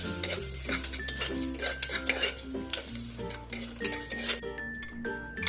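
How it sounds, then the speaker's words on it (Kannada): Cumin, green chilli, curry leaves and black pepper are dry roasted in a little oil in a cooker, a light crackling sizzle under repeated metallic scraping and clinking of a stirring spoon against the pot. "ಜೀರಿಗೆ, ಹಸಿಮೆಣಸಿಕಾಯಿ, ಕರಿಬೇವು, ಕಾಳುಮೆಣಸು ಹಾಕಿ ಇದನ್ನು ಡ್ರೈ ರೋಸ್ಟ್ ಮಾಡ್ಕೊಳ್ಳಿ"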